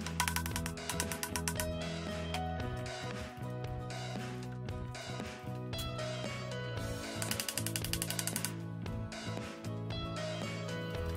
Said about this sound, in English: I tightened the 4 gearbox bolts back in.